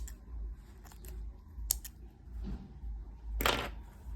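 Scissors snip gray yarn during a crochet project: a few quiet, sharp cuts scattered over a faint background, the last one slightly louder.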